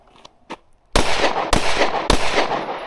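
Three loud gunshots fired at a target dummy on a shooting range, evenly spaced with sharp cracks and ringing tails, preceded by a couple of faint clicks.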